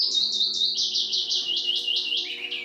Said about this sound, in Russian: а под птичий гомон